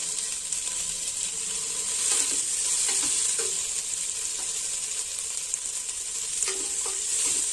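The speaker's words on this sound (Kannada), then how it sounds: "ಚೆನ್ನಾಗಿ ಹಸಿ ವಾಸನೆ ಹೋಗೋವರೆಗೂ ಹುರ್ಕೊಳ್ಳೋಣ." Small tomatoes fry with ginger garlic paste in a pan for mushroom biryani, a steady close sizzle with repeated scraping stirs and occasional clinks of the spoon, no talking heard.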